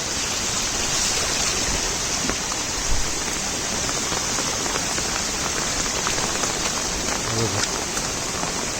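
Torrential monsoon rain in rural Konkan, a dense continuous hiss of drops drumming on surfaces with rushing water beneath, loud and unbroken for the whole stretch, no voices.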